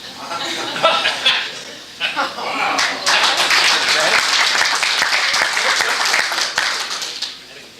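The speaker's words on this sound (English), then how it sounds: "I'd like a nice round of applause before we get underway for Rich Stivers." A crowd at a Rotary club meeting bursts into sustained applause, dense clapping rising and holding loudly, with scattered chuckles and voices mixed in.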